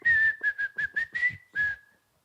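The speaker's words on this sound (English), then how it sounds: "That's some brave whistling" A short whistled advertising jingle of seven clear notes in a quick, bouncy rhythm, close and alone.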